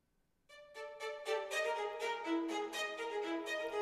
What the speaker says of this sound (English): So I've got high staccato strings, right? And then I've doubled those with spikier violins.